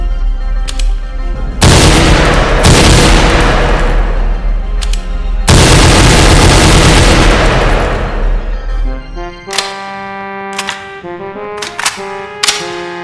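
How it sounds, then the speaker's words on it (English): Video game gunfire empties an entire magazine in two long, loud bursts of rapid automatic shots, followed by scattered single shots and ringing metallic tails as the firing tapers off. "I'm going to have to dump a whole mag"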